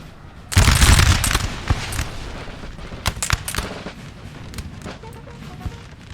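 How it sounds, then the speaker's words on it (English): French artillery in Napoleon Total War thunders in a loud opening barrage, then scattered cannon shots and musket cracks sound near and far, irregularly spaced across a battlefield. "This is, yeah, merciless fire from the French artillery."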